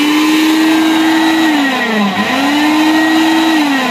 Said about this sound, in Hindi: ये इसका टर्बो का ऑप्शन है, मैं ये ऑन करता हूँ।